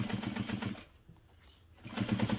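A sewing machine stitches a knapsack in fast, even rhythmic bursts, pausing for about a second before starting again, close and steady.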